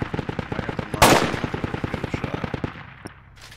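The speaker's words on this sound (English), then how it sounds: "I'm gonna shoot at the Dishka guy" Rapid automatic gunfire in the tactical shooter Project Reality, a loud close burst of evenly spaced shots with one heavier blast partway through, then the firing stops and fades.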